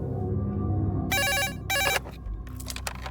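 An incoming call rings on a telephone near closing time, with two bright electronic ring bursts close by over low background noise, followed by fainter ringing fragments.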